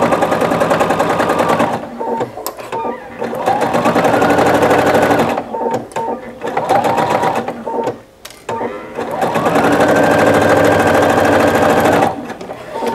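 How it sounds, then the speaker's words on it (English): A sewing machine stitches a placemat in long loud runs of rapid rhythmic needle chatter, stopping briefly between bursts as the fabric is turned at corners. "now you're going to stitch again down to the next corner"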